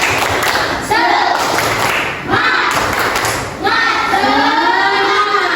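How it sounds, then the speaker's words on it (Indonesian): Children in an elementary school classroom clap a cheer rhythm together. Loud, repeated thumping claps in bursts mix with their chanting voices. "Tepuk semangat."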